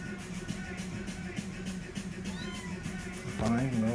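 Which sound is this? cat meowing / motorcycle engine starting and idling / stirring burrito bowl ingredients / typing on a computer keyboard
cat meowing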